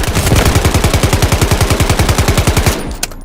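Sustained full-auto bursts from an MK-47 rifle in the video game Delta Force, a loud rapid stream of evenly spaced shots for under three seconds, ending with one more isolated shot.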